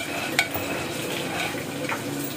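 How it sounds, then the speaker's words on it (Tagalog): Chunks of pork belly for lechon kawali sit submerged in hot oil, giving off a continuous close bubbling hiss with a brief clink near the start. "Nakadip naman to sa mantika. Lubog siya sa mantika guys."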